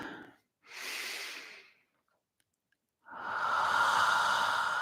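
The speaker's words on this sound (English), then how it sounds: "take a deep and clearing breath" Deep clearing breaths taken during a guided Dzogchen Chod healing meditation: a long slow inhale, a pause of silence, then a louder, extended airy exhale, close and alone with no talking.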